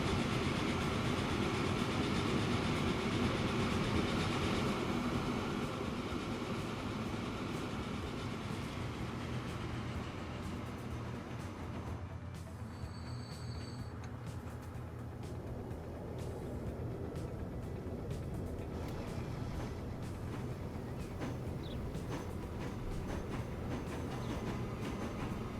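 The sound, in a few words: train running in video game Transport Fever 2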